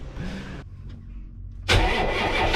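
A 6-cylinder boat engine cranks briefly, falls quiet for about a second, then catches and fires into a loud, steady running roar close by.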